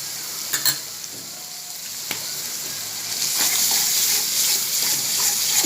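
Egg curry with a spoonful of soy sauce stirred in a frying pan: a few clinks of the utensil, then the sizzle swells into a louder steady hiss with no voices.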